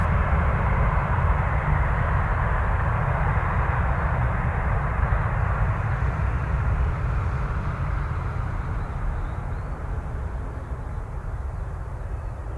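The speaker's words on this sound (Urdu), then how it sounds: "ہمارے جہاز نے جیسے ہی ٹیک آف کیا" A steady, loud roar of an airplane taking off fills the whole stretch, a dense low rumble with a broad hiss above it. It fades slightly toward the end, with no voices.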